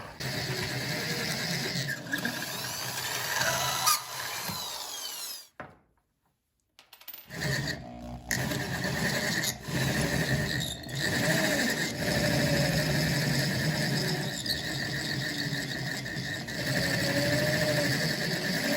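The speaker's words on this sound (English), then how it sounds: "my first step is to drill out these holes." A drill whirs and squeals as it bites through metal washers, drilling out their holes, grinding steadily with a brief stop partway before starting again.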